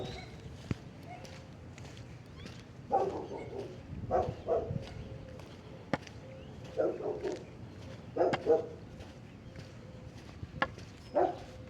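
Dogs bark in short bursts at a distance, scattered woofs arriving in small clusters over background noise with occasional knocks and footsteps.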